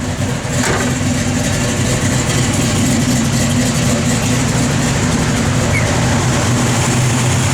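The engine of a 1964 Chevrolet Malibu idles steadily and close by, a continuous low rumble with no speech over it.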